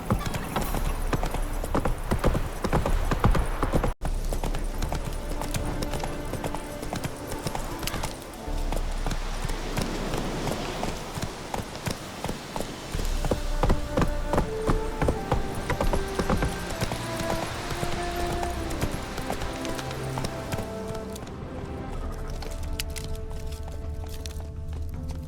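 Roach, a horse in The Witcher 3 video game, gallops with rapid rhythmic hoofbeats over a long stretch, joined by an occasional neigh amid game sounds.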